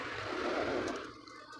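Water pours steadily into a cooking pot of galunggong fish paksiw seasoned with salt, a broad close rush of liquid that tapers off after about a second.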